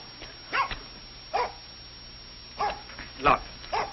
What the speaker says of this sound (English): Nice doggy. Good doggy.